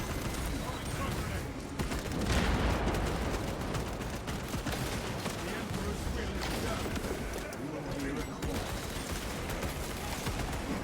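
Gunfire in the video game Space Marine 2, including sniper fire: sustained loud bursts of shots and heavy combat noise throughout, with people talking over it.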